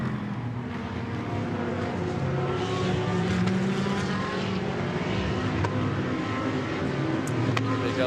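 GT race cars including an Audi and BMWs at Barcelona in the GT World Challenge, a continuous roar of engines close and loud throughout, with no clear breaks.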